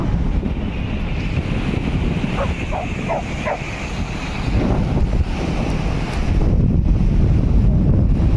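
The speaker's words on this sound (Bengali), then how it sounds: "এটা হচ্ছে মন্দারমণি সি বিচ।" Wind gusting over the microphone at Mandarmani beach in Bengal during low tide, with a steady roar of distant sea waves and a few faint barks from a dog in the distance, no talking.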